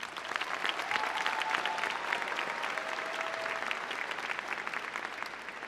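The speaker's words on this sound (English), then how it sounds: "let's give them one more round of applause" A high school graduation audience claps in a sustained, even round of applause, moderately loud and filling a large hall for the whole stretch.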